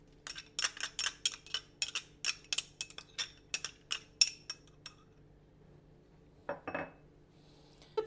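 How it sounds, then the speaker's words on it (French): A spoon scrapes and clinks rapidly against a bowl as salt and oil go into a peanut butter cream for oven-roasted cauliflower, a quick run of close metallic taps, then a pause and a short final scrape. "on racle bien, il ne faut rien perdre"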